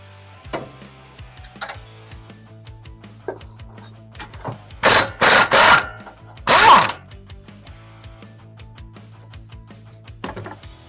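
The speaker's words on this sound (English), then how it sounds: "So let's go ahead and get that A-arm bolt out of there." A ratchet works an A-arm bolt loose on a Polaris Ranger 1000 during control arm replacement, giving a few loud clustered bursts of rapid clicking midway, with scattered metallic taps and clunks before and after.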